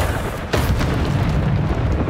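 Bombarda spell blast in Hogwarts Legacy, a loud booming explosion with a rumbling roar that swells and sustains through the short moment.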